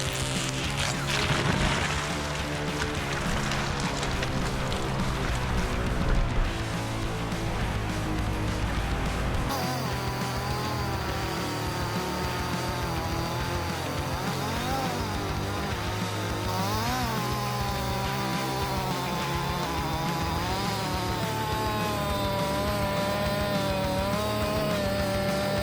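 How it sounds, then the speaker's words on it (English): A chainsaw cuts firewood with a steady, loud, continuous buzz that holds level for the whole stretch, joined by tonal, music-like sounds. "When the engine runs, the chain spins at high speed, cutting through it effortlessly."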